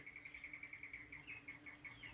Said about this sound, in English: The bees really like them, the carpenter bees mainly.